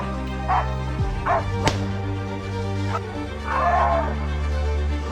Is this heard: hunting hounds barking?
yes